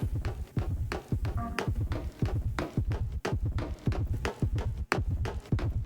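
Footsteps overlaid with a heartbeat in the video game Illbleed: a steady, low, throbbing double-beat pulse repeating about every half second, with faint tapping steps woven through, loud and close with no talking.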